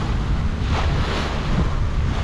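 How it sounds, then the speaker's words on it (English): Wind at sea on a sailboat returning from Mexico, a loud, continuous rushing roar buffeting the microphone, with wash of waves blended underneath and no voices. "We're starting to see a little bit of a breeze."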